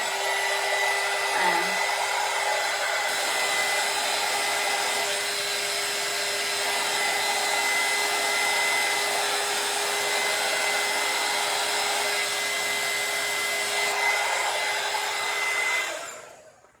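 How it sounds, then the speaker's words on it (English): A hair dryer blows with a steady, loud whirring hum for a long stretch, then cuts off abruptly at the end. "you don't have to have this, use a hairdryer"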